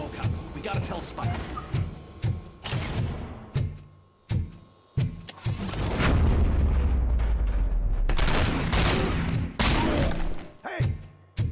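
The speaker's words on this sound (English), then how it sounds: "Am I hearing gunshots?" Gunfire in the video game RoboCop: Rogue City, loud sharp shots in irregular bursts with heavy impacts and a rumbling blast in the middle, mixed with game voices talking.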